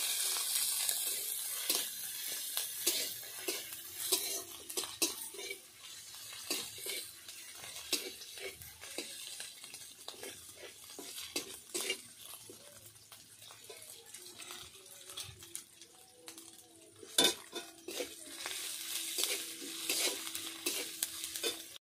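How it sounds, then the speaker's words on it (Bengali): Masala with garlic and ginger paste being stirred and fried in a pan for aloo chop curry, a steady close sizzle with frequent light scrapes of the spoon throughout, no voices. "ভালোভাবে মশলাটা ভালোভাবে কষিয়ে নেব"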